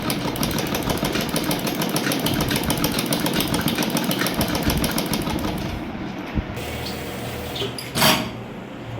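A sewing machine stitching a double piping zip runs with a fast, steady mechanical whir and rapid needle clatter, loud and close, then slows and stops with a few brief clicks near the end.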